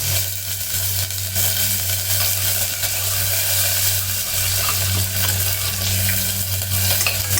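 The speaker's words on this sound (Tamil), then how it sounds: "பருப்பெல்லாம் செவந்துட்டு கடுகு வெடிக்கிறே" Mustard seeds and lentils frying in hot oil for a cracked-wheat vegetable kichadi, a steady dense crackle and sizzle close by, with continuous stirring throughout and no talk.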